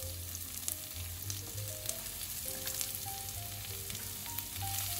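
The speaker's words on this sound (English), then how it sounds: "So now let's saute the onions." Long-sliced onions sautéing in a pan for a beetroot vegetable pulao, with a constant close sizzle, faint crackles and soft stirring, no one talking.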